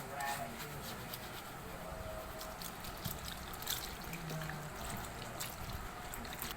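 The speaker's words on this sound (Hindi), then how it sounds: "अब मैं आपको साफ पानी से वॉश करके भी दिखाती हूँ" Clean water splashes and trickles steadily over a shirt collar during a hand rinse, a continuous close watery wash filling the background.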